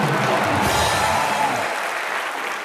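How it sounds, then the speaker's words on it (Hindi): Loud, sustained applause from a television comedy show's studio audience fills the room, a dense steady clapping that eases slightly toward the end. "जोरदार ताली ठोको यार"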